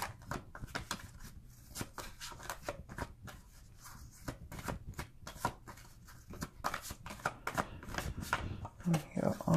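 Large tarot cards shuffled by hand, a rapid run of crisp riffling flutters and slaps close up, continuing steadily with soft speech faintly underneath.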